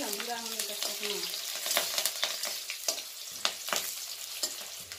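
Chillies and garlic frying until brown in oil for an elephant foot yam chutney give a close, crackling sizzle with frequent sharp stirring scrapes; a brief hum of a voice sounds at the very start.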